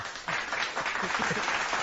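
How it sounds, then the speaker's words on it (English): A canned applause sound effect dropped into a quiet podcast recording, a dense crowd-clapping wash that swells in after a brief quieter start and holds steady to the end. "The fake applause. I had to add that."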